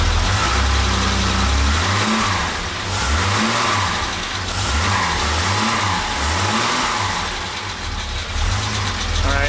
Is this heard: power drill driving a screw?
no